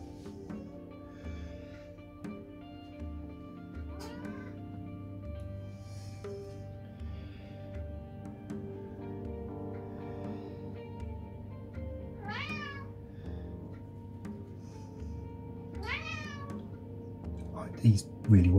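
A domestic cat meows a few times, short wavering cries at moderate distance over a steady low background hum, with a louder knock near the end.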